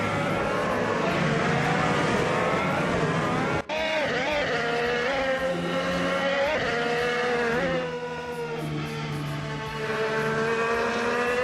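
Honda IndyCar race cars from the 2018 series howl through a racing video game on the Camino Viejo de Montserrat circuit, with loud, steady engine whine and rising and falling pitch as gears shift, continuous and alone.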